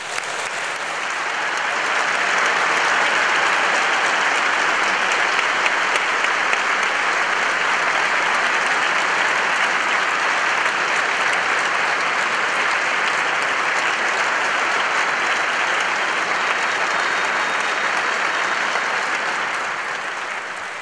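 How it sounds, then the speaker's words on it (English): A large audience at a Manchester Open University degree ceremony gives graduates long, sustained applause, a dense, loud wash of clapping that swells quickly and holds steady for about twenty seconds before easing slightly. "let's start today's ceremony by giving all our amazing graduates a huge round of applause"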